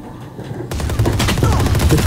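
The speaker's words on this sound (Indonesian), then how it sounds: "Pakai bulldog nembak udara" Rapid automatic gunfire from a Bulldog rifle fired into the air in a video game, a dense burst of repeated shots starting abruptly and continuing to the end, loud and close.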